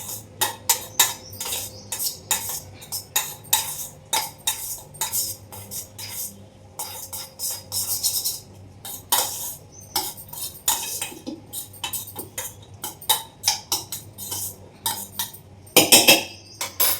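A metal spoon scrapes and clinks against a steel plate or bowl while rasam rice is mixed, giving irregular, close-up bursts of clatter over about seventeen seconds with no talking.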